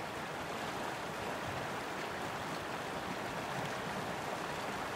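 The River Suam in West Pokot, Kenya, flowing in a steady, even rush of water heard close and alone, with no voices.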